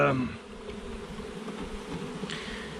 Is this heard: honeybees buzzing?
yes